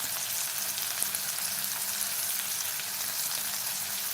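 Green chillies sizzle and fry steadily in a hot pan for Maharashtrian-style methi bhaji, a continuous close crackling hiss with faint stirring and no talk.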